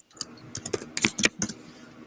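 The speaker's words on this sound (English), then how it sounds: "And is typing away." Rapid bursts of typing on a computer keyboard, clustered clicks and clatter at close range with brief pauses between bursts, alone with no talking.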